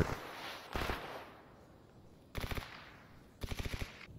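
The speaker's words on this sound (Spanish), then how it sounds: "Capaz que le están disparando a los Snork." Gunfire in S.T.A.L.K.E.R. Anomaly comes as three separate rapid automatic bursts. The first is a short burst, then two longer rattles of several shots each. It sounds moderately distant, over a quiet background.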